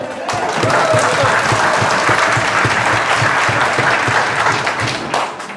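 A classroom of students in Kota claps together, the applause steady and sustained for several seconds with distinct rhythmic slaps beneath before it trails off.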